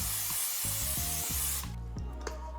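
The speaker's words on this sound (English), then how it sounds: "we're gonna spray a little bit of vegetable oil on top" A short hissing spray of vegetable oil from an aerosol can onto dough lasts about a second and a half, then cuts off, followed by a few faint rubbing clicks.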